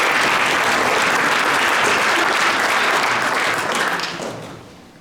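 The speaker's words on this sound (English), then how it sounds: "let's give a nice round of applause for Brandon" A room full of people applauds steadily at a high school boys' soccer banquet, a dense, even clatter of many hands that holds strong for about four seconds and then tapers off near the end.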